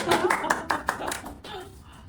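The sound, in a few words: group clapping hands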